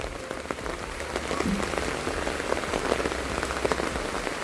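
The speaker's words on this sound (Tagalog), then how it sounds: "Ang lakas ng ulan, kanina pang umaga yung ulan dito." Heavy typhoon rain in Mindanao pouring steadily onto surfaces, a dense continuous hiss with scattered sharper drops, close and even in loudness with no voices.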